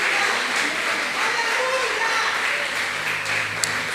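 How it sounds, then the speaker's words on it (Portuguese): Churchgoers applaud the Lord during a sermon, a dense, steady wash of clapping from many hands that fills the room for the whole stretch, with murmuring voices mixed in. "Aplauda o Senhor."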